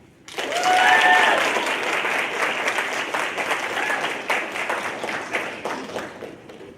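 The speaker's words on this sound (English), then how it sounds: "a warm round of applause for Viva" Audience applause bursting out after a soapbox speech at a Social Justice Day event, rising sharply to a dense peak of clapping then slowly thinning out, with a brief whistle near the start.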